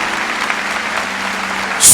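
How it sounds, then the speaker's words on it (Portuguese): Church congregation clapping in praise during a sermon, a dense steady wash of applause with a sharp loud burst right at the end. "Vamos dar uma salva de palmas para o Senhor."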